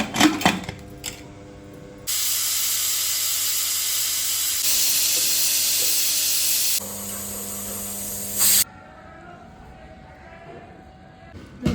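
A pressure cooker with its lid on, cooking a corn, mushroom, broccoli and pea rice pulav, lets out a loud sustained hiss of steam for several seconds before it cuts off abruptly.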